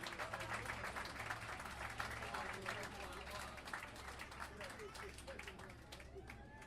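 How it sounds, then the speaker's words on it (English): Applause for the mayor at an outdoor event aboard a boat on the Anacostia: faint, fairly distant clapping over a low engine-like hum and background crowd chatter. "Let's give a round of applause for the mayor."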